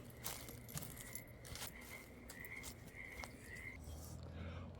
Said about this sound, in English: Coming over here, I hear some frogs.